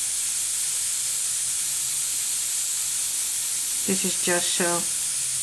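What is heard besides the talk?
airbrush spraying paint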